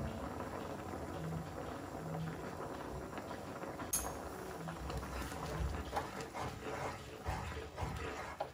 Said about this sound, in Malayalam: അപ്പൊ ഏകദേശം 4-5 മിനിറ്റ് ഒന്ന് നന്നായിട്ട് തിളച്ചിട്ടുണ്ട്.